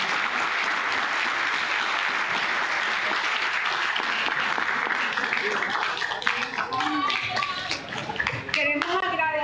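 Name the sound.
audience applause for conference speaker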